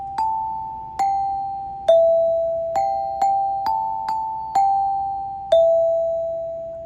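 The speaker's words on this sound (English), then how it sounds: "they take turns playing the song, playing the pitches of the song on the tone bells" Students strike tone bells one at a time to play the pitches of a song, about nine clear, ringing notes at uneven intervals, each fading before the next.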